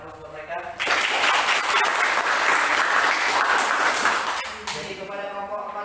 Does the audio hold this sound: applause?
yes